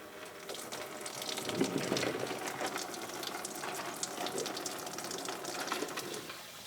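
Coolant draining from the cooling system petcock of a Ford 6.7 diesel truck: a steady, faint splashing trickle of liquid that runs continuously, with small clinks and rattles.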